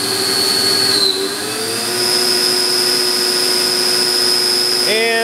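A vertical CNC machining center's spindle runs up to about 7000 RPM, producing a loud, steady high-pitched whine that shifts pitch as it settles, then a brief rising tone near the end.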